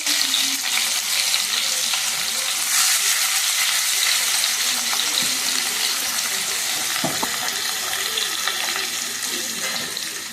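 Onions sautéing in oil in a pan for an egg curry, after fennel seeds and cinnamon have fried, give a steady loud sizzle throughout with occasional scrapes of stirring.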